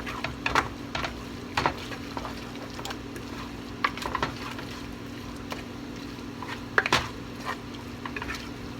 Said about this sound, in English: We're just going to sprinkle some sugar on there, not a whole lot. And then we're going to mix that in.